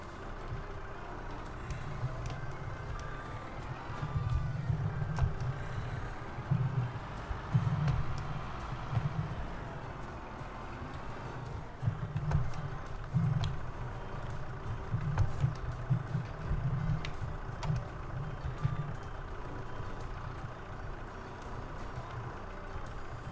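Skid steer in Farming Simulator 22 idling and backing up to park, a low steady engine drone with repeated reversing beeps pulsing through it, moderately loud with no voices.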